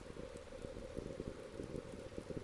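Soft, steady rain falls outside a large window, a faint continuous patter with scattered drop ticks and no voices.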